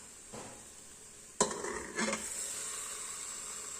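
Beef stirred into spices in a pan: quiet scraping and clinking strokes, with a sharp scrape about midway and another shortly after, over a soft background hiss.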